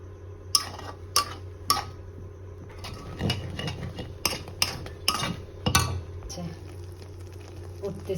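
Milk cream being stirred in a wok as it cooks down into ghee, with repeated sharp clinks and scrapes of a spoon against the wok over a low background hum.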